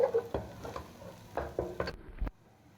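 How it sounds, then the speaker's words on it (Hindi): Ginger, garlic and green chili paste frying with onions in a pan, giving soft sizzles broken by a few scraping stirs, close by, then cutting off abruptly near the end. "अदरक लहसुन और सब्ज़ मिर्च का पेस्ट हम प्याज के साथ अच्छे से फ्राई कर लेंगे"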